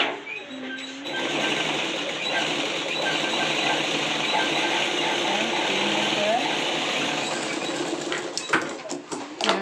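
A sewing machine runs steadily, stitching pant fabric, a continuous close whir that holds for most of the stretch before stopping near the end, with a few light clicks and handling sounds after.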